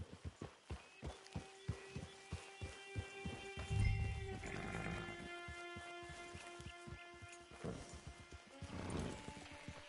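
Horse hooves in Red Dead Redemption Online thud in a steady galloping rhythm, close and clear, then fade out as held tones and other game sounds take over.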